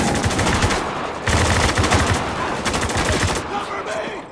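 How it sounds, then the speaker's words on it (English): Heavy machine gun fire in the video game Spec Ops: The Line, loud sustained automatic bursts with brief gaps between them, rattling close and dense throughout. "They got some heavy fire here!"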